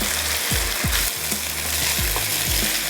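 Sliced potatoes and onions fry in a pan, a loud steady sizzle broken by scraping stirs of a spoon every half second or so, with no voices.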